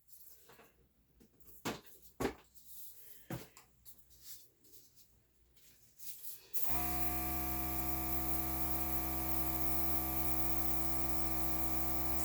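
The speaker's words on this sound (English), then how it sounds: "I'm going to kind of do that, but in this more tighter area with the airbrush" An airbrush blows air across poured acrylic paint in a Dutch pour, giving a steady close hiss that begins abruptly after a quiet stretch of faint clicks and handling noises.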